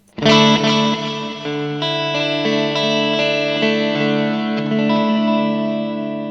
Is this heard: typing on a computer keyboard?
no